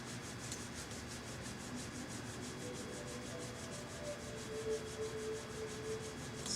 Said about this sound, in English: when you're ready to start rubbing palms together